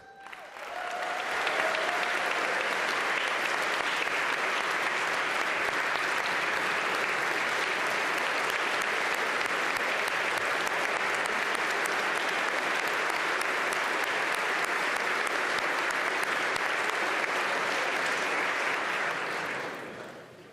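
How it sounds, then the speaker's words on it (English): Legislators and guests in a state General Assembly chamber applaud during a governor's budget address, a loud, dense and sustained ovation of many hands clapping that holds steady for about twenty seconds before tapering at the end. "y'all are real smart to clap for her."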